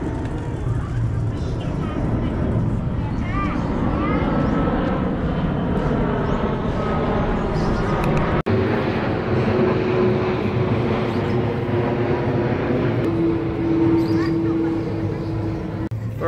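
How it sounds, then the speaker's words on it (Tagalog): An airplane approaches and passes overhead, a broad roaring drone that swells and holds steady over many seconds, with a thin whine rising near the end, while a person talks over it. "Parating ulit ng aeroplano."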